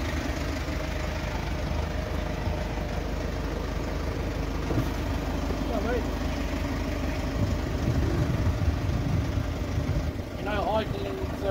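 Steady low engine idle from a stopped car, continuous and close throughout, with voices talking faintly over it.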